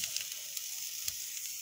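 Pineapple slices and a pepper sizzle on a grill, a soft, steady hiss with faint crackles, fairly quiet and alone.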